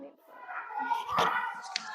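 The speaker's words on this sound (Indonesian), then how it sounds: "kita tepuk tangan dulu buat kelompok 2" A class group in a school classroom gives a short round of clapping, brief and fairly close, mixed with children's voices.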